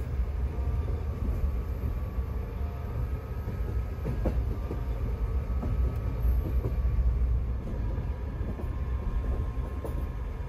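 Regiojet couchette sleeping car rolling along the tracks from Prague toward Split, a steady low rumble with faint rhythmic clicks of the rails and no talking.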